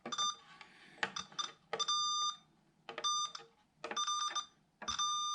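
Electronic continuity tester touched against copper leaf shielding inside a 335-style bass guitar body gives five bright, steady beeps of about half a second each in an irregular rhythm, with faint clicks of the probes and no speech.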